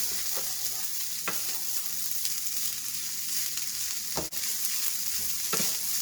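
Dirty rice fries in a pan while being stirred, producing a constant soft sizzle with a few sharp scraping clicks of the utensil, close but fairly quiet, with no one speaking.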